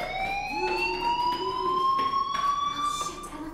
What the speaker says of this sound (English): Hey, dude, do you hear that fire alarm?